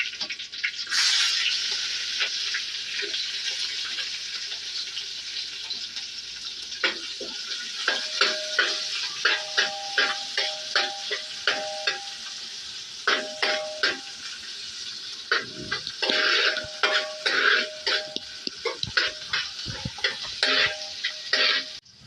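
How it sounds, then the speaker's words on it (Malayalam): Crab curry cooks in a pan of gravy with oil and mustard seeds, a steady close sizzle broken by a run of rapid crackling pops and spatters as the seeds burst. "നമ്മളിത് എണ്ണയുടെ അകത്ത് കടുകിട്ട് ഈ ഞണ്ട് കറി ഇണക്കാനായിട്ട് ഗ്രേവി ഇണക്കിയതിൻ്റെ ശേഷമാണ് ഞണ്ട് ഇതിലേക്ക് വെക്കുന്നത്."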